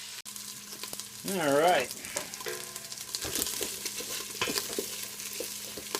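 Bear meat for succotash browns and sizzles in a pan with a steady low frying hiss and some stirring. A person briefly speaks over it.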